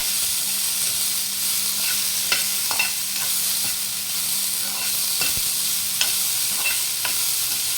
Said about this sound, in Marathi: असे छान हे करटुल्याचे काप परतून घ्यायचे आहेत।